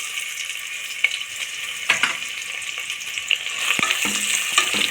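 Two onions sizzle and crackle steadily in a hot pan while being stirred for kushka, with occasional scraping clicks, close and moderately loud throughout.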